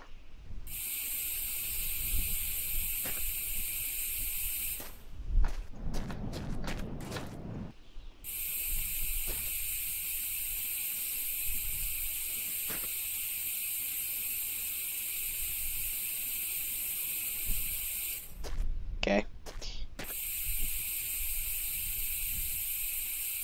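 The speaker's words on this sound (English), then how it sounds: "I'm just gonna use this spray to spray the doors a nice light blue." In The Long Drive video game, a spray can applies light blue paint to car doors: long steady hissing bursts broken by short gaps, with clicks and mechanical rattles between them and a dull low clatter in the middle.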